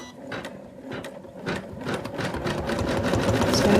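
An embroidery machine stitches fur placement lines on fabric for an in-the-hoop Santa doll, a fast steady mechanical whirring and needle rattle, close and continuous, growing slightly louder.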